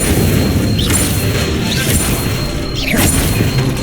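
Incendio fire spell cast in Hogwarts Legacy, a few short whooshing bursts of flame over a dense, loud game soundscape with no talking.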